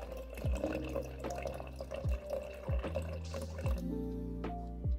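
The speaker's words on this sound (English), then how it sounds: "Adding water. This is rainwater." Rainwater is poured into a small glass jar holding a moss terrarium, producing quiet, intermittent drips and short splashy trickles that come in uneven bursts close by.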